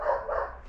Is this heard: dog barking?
yes